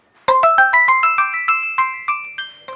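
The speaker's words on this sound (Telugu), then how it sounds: "ఈ టైంలో ఫోన్ చేస్తున్నాడు." A mobile phone rings with an incoming call, a bright series of rising and falling electronic tones, loud and close with no other sound.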